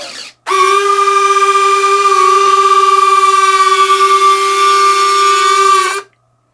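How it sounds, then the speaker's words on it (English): Retractable landing gear extends on an FMS SU-27 RC jet, a steady, loud, tonal electric whine that starts abruptly, holds evenly for about five and a half seconds, then cuts off, with no talking. "Let's go ahead and drop the gear."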